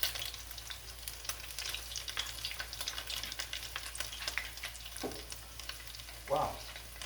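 Corn fritter batter fries in a pan with a soft continuous sizzle and crackle, quiet and close, with a couple of brief scraping knocks near the end.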